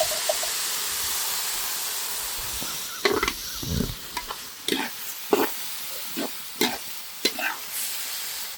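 Chicken liver pepper fry sizzles in a pan with a steady frying hiss, broken by a series of scraping stirs and spatula clanks in the second half, close and clear with no talk.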